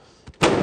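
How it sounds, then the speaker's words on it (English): A firework bursts inside a TV morning news studio: a short faint pop, then a sudden loud broadband bang that holds as a dense crackling roar to the end, close and sharp. "That is our Science Center fireworks show"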